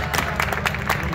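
Audience applause at a cooking class demonstration at the Expo Sabores food fair in Pucón, steady dense clapping from a crowd close by, lasting about a second.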